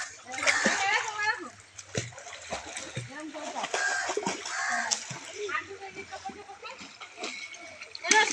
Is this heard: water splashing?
yes